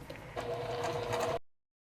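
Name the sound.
sewing machine top stitching a bag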